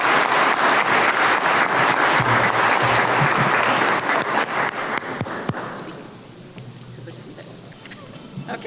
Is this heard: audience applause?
yes